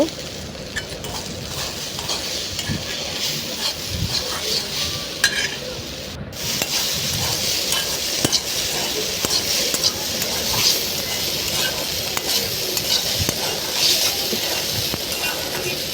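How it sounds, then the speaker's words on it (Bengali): Okra (ladies finger) frying in oil with salt and turmeric, stirred for a long stretch: continuous close sizzling with frequent scraping and clacking of a spatula against the pan, a brief dropout partway through. "একটু বেশিক্ষণ ধরে নাড়ব।"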